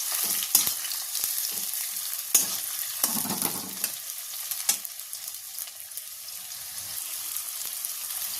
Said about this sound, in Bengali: তেলে পেঁয়াজটা দিয়ে হালকা ফ্রাই করে নেব।